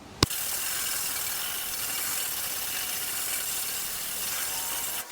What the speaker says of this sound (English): we'll just grab some sandpaper, give this a quick going over and see what's going on